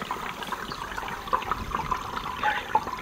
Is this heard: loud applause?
no